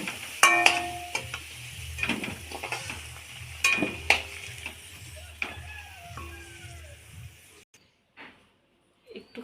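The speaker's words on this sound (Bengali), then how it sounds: "আলুটা লাল লাল করে ভেজে নিচ্ছি," Potatoes frying in oil while being stirred, with a soft bubbling sizzle under repeated clinks and scrapes of a utensil against the pan, close by, fading to near silence near the end.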